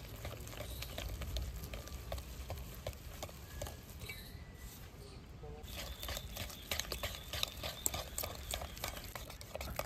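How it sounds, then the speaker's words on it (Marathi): Sorghum flour idli batter whisked by hand in one direction, a quick run of soft wet ticks and patters repeating rapidly and faintly at close range, pausing briefly midway before continuing. "आपल्याला 3 ते 4 मिनिटं एकाच साइडने मिक्स करायचे, चांगलं फेटून घ्यायचे।"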